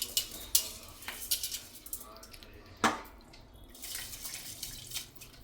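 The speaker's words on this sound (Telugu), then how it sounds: "చక్కగా ఈ 3 గ్లాసులు బియ్యం ఇందులో వేసేసుకుందాం" Soaked rice poured into a cooking pot gives faint wet rustling, scraping and clinks of utensils against metal in a quiet home kitchen, with soft intermittent taps and splashes.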